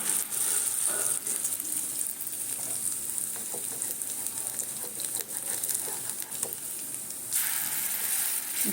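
Poppy-seed and pumpkin-seed fritters fry in a generous amount of oil, giving a continuous close sizzle with small crackles and pops and the occasional stir.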